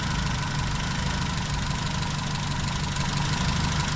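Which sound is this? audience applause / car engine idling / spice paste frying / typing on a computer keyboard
car engine idling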